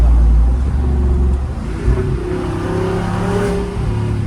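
A Jeep Rubicon 392's V8 exhaust revs hard and close, a deep throaty roar that rises and holds for several seconds with no talking.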